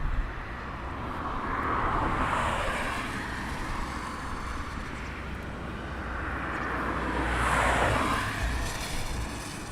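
A military transport aircraft flies over RAF Brize Norton airfield, a steady broad engine roar that swells twice as it passes, heard from a distance in open air.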